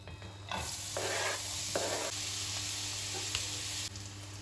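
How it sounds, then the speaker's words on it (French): Small onions dropped into hot oil for a pizza topping, a sudden bright hiss that bursts up and stays loud and steady for a few seconds, with a stir or two, then cuts back down. "à chauffer l'huile et à faire frire mes petits oignons"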